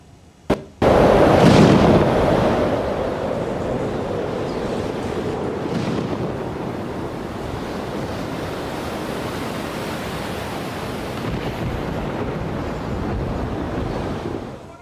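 The Ganga river in Dakshin Malda, West Bengal, rushes in flood while eroding land, producing a dense, continuous roar of water. A sharp knock at the start gives way to a steady, loud wash.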